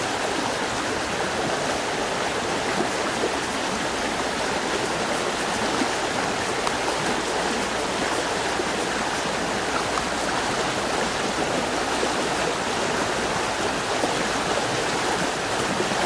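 Rain runoff rushing through a ravine and filling up to the drain, a loud, steady, dense wash of flowing water with no pauses from start to finish.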